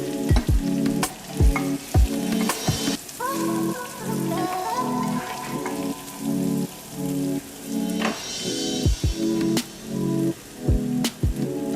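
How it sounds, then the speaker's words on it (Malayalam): Marinated chicken pieces for double-fried sesame chicken shallow fry in a pan, a close, crackling sizzle broken by repeated sharp clinks and scrapes of the turning utensil against the pan. "മസാല ഒന്ന് പിടിക്കാൻ വേണ്ടി ചെറുതായിട്ടൊന്ന് ഫ്രൈ ചെയ്ത് എടുക്കുകയാണ് ഞാൻ ചെയ്യുന്നത്."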